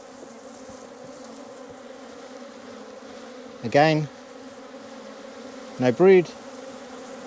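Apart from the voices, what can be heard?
swarm of bees buzzing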